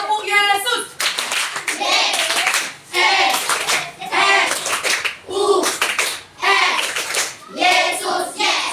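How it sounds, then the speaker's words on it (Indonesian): Children in a classroom clap out a counting clap game, sharp bursts of hand claps in rhythmic groups separated by short pauses, alternating with a teacher's spoken cues between the claps. "Tepuk sekali. Tepuk 2 kali. Tepuk Yesus."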